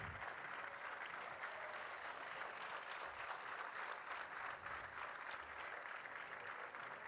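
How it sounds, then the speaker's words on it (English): Dense, steady applause from a large audience at a college convocation ceremony, continuing evenly for several seconds with no voices over it. "That's a very good clap for all what they have done for you."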